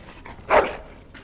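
One short bark from a dog in Dragon Age: Origins, a single sharp yelp at moderate distance with no talk over it.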